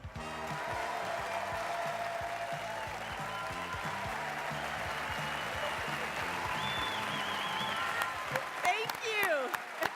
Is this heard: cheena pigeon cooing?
no